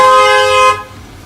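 A passing car sounds its horn once in a steady, loud, close honk lasting under a second, then cuts off, heard near a garage where a 1986 Opel Manta is being worked on.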